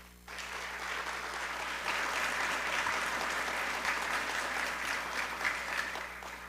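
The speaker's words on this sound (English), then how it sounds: "Give yourselves a great round of applause." Audience at a Seal of Biliteracy ceremony breaking into sustained applause, a dense wash of clapping that swells slightly and holds steady throughout.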